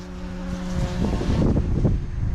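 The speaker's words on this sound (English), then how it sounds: "you can probably hear in the video that definitely is windy today" Steady wind buffets the microphone in a continuous low rumble, with a faint motor hum at the start that fades beneath the gusts.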